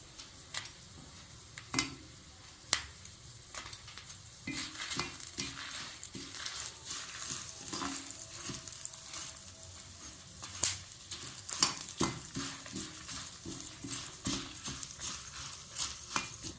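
Dried red chillies and garlic fry in a pan for a garlic kuzhambu, with a soft continuous sizzle broken by frequent clicks and scrapes of a spoon stirring against the metal, close and fairly quiet.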